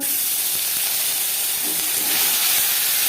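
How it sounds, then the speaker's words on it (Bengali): Bay leaf and whole cumin seeds sizzle in hot oil in a kadai, a loud, steady, close hiss that holds without a break. "আবারও তেল দিয়েছি দিয়ে দিলাম একটা তেজপাতা ছোট হাফ চামচ গোটা জিরে"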